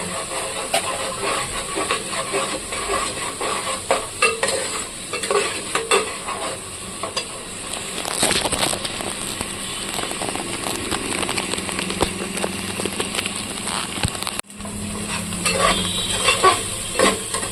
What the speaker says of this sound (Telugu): వీటితో పాటు పసుపు వేసుకొని వేయించుకోవాలి కాసేపు